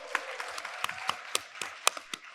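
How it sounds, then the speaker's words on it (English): Scattered, uneven hand claps from a modest audience at a youth leaders' conference plenary greet speaker Benel Agosu, a dozen or so distinct, fairly close claps without building into a full ovation. "A round of applause."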